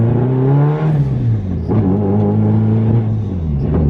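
Nissan S13 car engine revving up close, a loud harmonic drone that climbs and falls repeatedly with the throttle, no talk over it.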